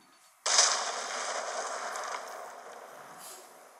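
A single explosion in the mobile survival game Last Day on Earth erupts suddenly after a brief quiet, a sharp blast followed by a long rumbling tail that slowly fades.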